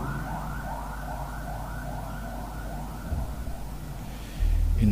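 An ambulance siren wails on a road, its repeating rising and falling tone somewhat distant and steady for several seconds before a low rumble of passing traffic swells at the end.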